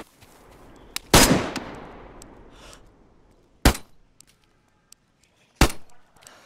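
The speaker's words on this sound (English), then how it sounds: "They're firing all around me." Gunfire in the DayZ video game: three sharp, loud shots spaced a couple of seconds apart, the first trailing off in a long echo, with small clicks and rattles between them.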